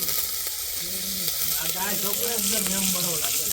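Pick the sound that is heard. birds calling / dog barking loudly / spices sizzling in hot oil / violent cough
spices sizzling in hot oil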